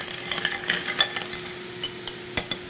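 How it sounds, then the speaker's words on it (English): Clams and a spoonful of basil vinaigrette being stirred in a pan, with a faint steady sizzle beneath a series of light utensil scrapes and clinks spread across a few seconds, with no one speaking. "Stir that around."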